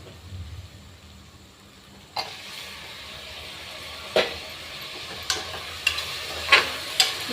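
Steady sizzling of chopped tomatoes in a hot frying pan with a few sharp scraping clicks from stirring, continuous and close, no voices.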